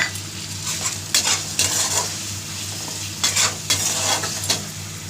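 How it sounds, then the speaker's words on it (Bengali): Spice paste with tomato fries in a pan, a constant close sizzle broken by clusters of spatula scrapes and metallic knocks against the pan, with no talking. "এর মধ্যে দিয়ে দেবো টমেটো, দিয়ে ভালো করে মশলাটা কষিয়ে নেব"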